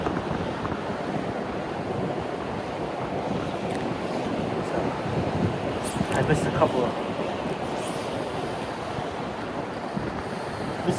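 Gusty wind buffeting the microphone over choppy water on the San Juan River during a float trip, a steady rough wash with someone speaking over it.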